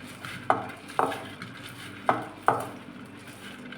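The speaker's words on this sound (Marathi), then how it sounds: "ह्याच्यात टाकूया फरसाण. हे पण मिक्स करूया." Bhel being tossed with farsan in a bowl, four distinct clinks of a spoon against the bowl at irregular intervals over a soft rustle of mixing, fairly close and moderately loud.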